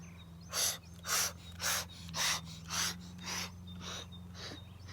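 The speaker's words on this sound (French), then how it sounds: "Prenez une inspiration par le nez." Six strong, evenly spaced nasal inhalations rise and fall over about five seconds during a Bhastrika pranayama breathing exercise. Each breath is close and loud, with a faint low hum underneath.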